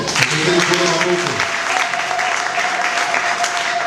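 Congregation in a church clapping together in sustained, dense applause, loud and close, with a voice heard briefly at the start.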